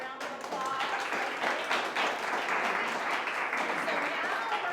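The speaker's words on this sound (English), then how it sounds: "Let's give him a round of applause." An audience claps steadily and fairly loudly after a talk, a dense even round of applause that holds throughout.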